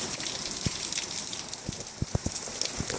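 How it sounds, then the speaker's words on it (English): Rain from Tropical Storm Elsa in the Florida Keys falls in a steady hiss, with scattered louder drops and splats landing nearby over a few seconds. "A lot of rain."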